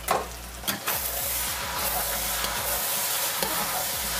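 Soy sauce sizzling in a pan of shrimp fried rice, a loud dense hiss that flares as the liquid hits the hot pan, broken by several scraping stir strokes.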